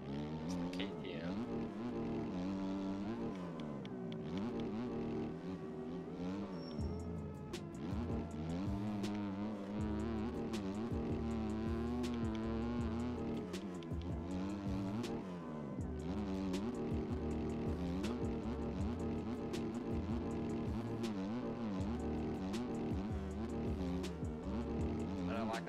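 A KTM motocross bike engine revs in the racing game MX Bikes. The motor climbs and falls in pitch as it shifts and accelerates, loud and continuous throughout, with occasional talking over it.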